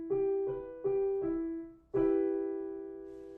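Single sustained chord, most likely piano, in a minor triad, sounded note by note in a stepwise build-up and then struck all together and left to ring and fade, clean and close with no voices.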